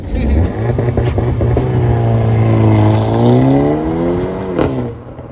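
A 2025 Hyundai Elantra N engine revs hard on launch control, a loud continuous growl that holds steady, climbs in pitch and then drops away near the end, with no other sounds over it.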